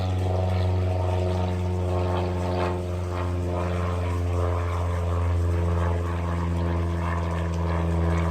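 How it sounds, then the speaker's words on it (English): A propeller airplane passes overhead during an outdoor prenatal yoga session, its steady droning engine hum loud and continuous throughout, with no talking. "There's a plane flying overhead."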